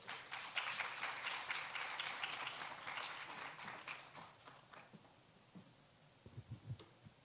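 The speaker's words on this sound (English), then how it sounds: "So let's do a round of applause for Dr." Applause from a healthcare panel audience greets a speaker, fairly faint and distant, thinning to a few scattered claps before fading out.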